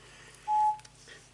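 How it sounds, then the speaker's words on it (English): A mobile phone with a low battery gives a single short electronic beep, faint over a quiet indoor room. "It's the other mobile phone that's losing its charge, so ignore that beeping"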